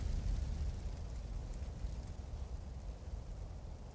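A character burning on fire in Grand Theft Auto San Andreas, a steady roaring crackle of flames heard alone for several seconds with a strong low rumble underneath.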